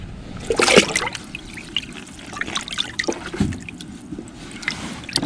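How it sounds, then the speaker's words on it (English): Salt water sloshes and trickles in a bucket as freshly caught prehistoric-looking fish are rinsed, with scattered splashes and drips close by and no talking. "So I did bring home a bucket of salt water. I'll throw them in there,"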